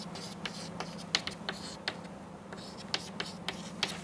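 Pen or chalk scratching out an equation by hand during an aerodynamics lecture, a steady series of short taps and strokes over a constant low hum and faint room noise.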